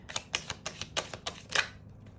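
Tarot cards are shuffled in a series of about eight quick, crisp riffling snaps close to the microphone, then silence.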